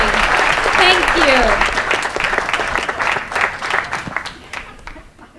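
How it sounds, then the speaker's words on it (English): Audience applause after an Earth Day speech: loud, close clapping from a crowd with a brief voice over it early on, gradually thinning and fading out. "Another round of applause."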